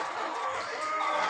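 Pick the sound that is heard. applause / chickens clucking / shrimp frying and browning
chickens clucking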